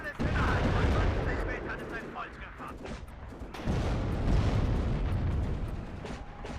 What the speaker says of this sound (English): Mass rocket artillery firing away.